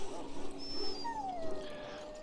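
A sick dog in Dragon Age Origins whimpers in thin, high rising and falling whines, fairly close over a soft ambient background, with no talk.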